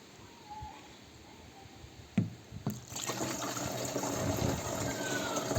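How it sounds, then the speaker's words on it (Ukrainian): Boric acid solution is poured into a container, beginning with a couple of knocks of handling, then a growing steady gush of liquid filling it, close and moderately loud. "Тепер вливаємо сюди борну кислоту."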